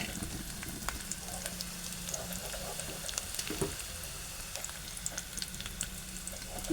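Garlic and chili pieces hitting hot oil for a buttermilk kadhi, a loud continuous close sizzle and crackle with scattered pops throughout.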